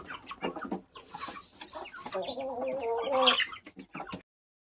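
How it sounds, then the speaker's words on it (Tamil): Guinea fowl calling nearby: a string of harsh, cackling clucks and squawks in quick bursts, rising to a louder shrill call near the end. "உள்ளார துரத்தியாச்சு கிண்ணி கோழியை"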